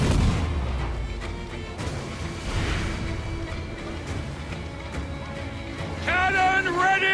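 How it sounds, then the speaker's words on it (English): Deep ship cannon booms and blasts go off repeatedly amid battle noise in the video game Assassin's Creed IV: Black Flag, followed by a voice shouting near the end. "Cannon ready! Fire!"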